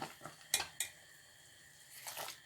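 Vine leaves turned in a cooking pot of salted boiling water, giving a few sharp metallic clinks and scrapes of a utensil against the pot, then a softer stirring rustle near the end.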